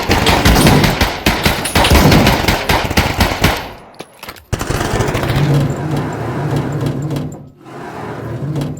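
Loud bursts of automatic gunfire from a prison guard video game, rapid repeated shots packed tightly together for several seconds, then a brief gap before a quieter, steadier rattle resumes.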